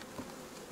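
Carnica and Buckfast honey bees buzzing during hive work, a brief, soft, continuous drone close by with no voices.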